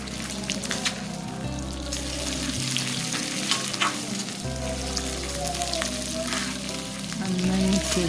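Crushed ginger, garlic and curry leaves sizzling in a pan for a homestyle beef curry, a steady close frying hiss with intermittent stirring scrapes and a low background hum.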